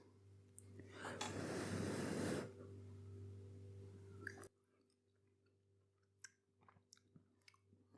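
Someone chews a mouthful of shepherd's pie made with meat-free mince, close and quiet, with a burst of louder chewing and breathing noise early on and then softer smacks and bites over a steady hum, no talking.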